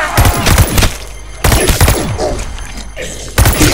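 Loud, close gunfire from Call of Duty Vanguard Zombies comes in three dense bursts of rapid shots, separated by short lulls of softer game noise.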